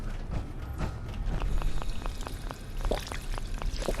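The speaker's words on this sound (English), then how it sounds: "I can drink water from a faucet even in power armor." Water running from a faucet while a character in power armor drinks in the Fallout 4 video game, a steady pouring rush with a series of small, regular metallic clicks, moderate in level with no speech.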